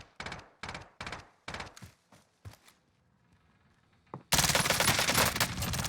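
Gunfire in the Warzone video game: several sharp automatic bursts in a quick stutter, a lull, then a sudden loud sustained volley of firing to the end.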